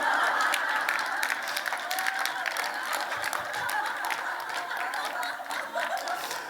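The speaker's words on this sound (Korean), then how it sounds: "지금 여러분들 손뼉 치잖아요" Applause from a church congregation during a sermon on healing, steady dense clapping filling the whole stretch at moderate level, with scattered chuckles mixed in.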